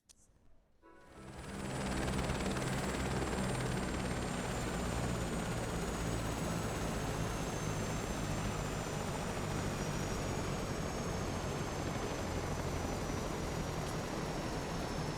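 Helicopter rotor in Microsoft Flight Simulator 2024, starting from near silence and rising within two seconds into a loud, steady droning whir with a constant high whine that holds unchanged to the end.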